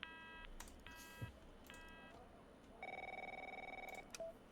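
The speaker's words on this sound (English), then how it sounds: "My phone's ringing off the hook here." Telephone in the video game The Operator, short repeated electronic ring bursts followed by a longer steady tone, with a brief beep after.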